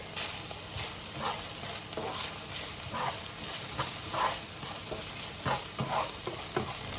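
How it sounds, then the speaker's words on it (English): Onions and garlic sautéing in oil for a pork chop afritada, a steady close sizzle with a regular rhythm of spatula stirs and scrapes, no talking. "And I will add more oil, just a bit. Okay, then we'll put our onions and our garlic."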